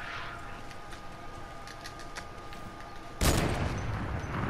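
Fortnite gunfire: a single loud, sharp shot bursts in near the end after a stretch of quieter game ambience with faint clicks, and its noisy tail rings on afterward.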